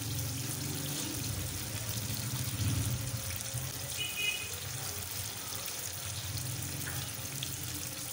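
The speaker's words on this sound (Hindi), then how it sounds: "फिर मैं थोड़ा सा पानी डाल के ना पकने रखती हूँ पाँच मिनट के लिए" Water is poured into a pan of cooking chicken liver, gizzard and tomatoes, giving a soft, steady splashing hiss with low sizzling underneath for the whole stretch.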